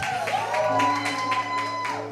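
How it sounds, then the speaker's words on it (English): A church audience gives a round of applause for a pastor, steady crowd clapping under sustained musical tones, with scattered sharper claps throughout. "Can we just get one more round of applause, please, as you guys have your seats for me?"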